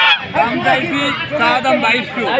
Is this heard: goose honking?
yes